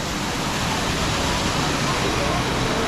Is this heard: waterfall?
yes